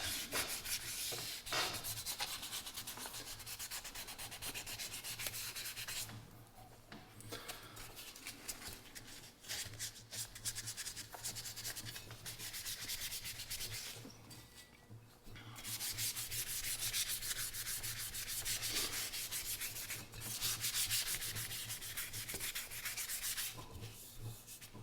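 Sandpaper is rubbed by hand over the metal surface of an early Coleman 335 lantern, a steady, close, scratchy back-and-forth with two brief pauses.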